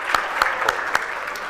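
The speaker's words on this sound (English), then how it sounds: "let's give them a round of applause" At an African brand awards event, a brief round of applause for ShopRite and Vodacom registers as a handful of separate, regularly spaced claps over soft crowd noise, close and moderate in level.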